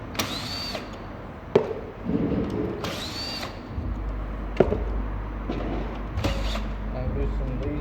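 A cordless power drill loosening the screws on a Toyota Camry aftermarket head unit, several short whirring bursts with rising pitch, close up, separated by brief clicks and handling noise, with a low hum in the background.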